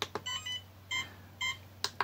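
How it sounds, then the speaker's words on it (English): A FlySky FS-ST8 10-channel radio control transmitter gives short electronic beeps as its stick is centered, several brief tones in a loose sequence with small clicks between them, quiet and alone. "So it will beep to tell you that it's centered"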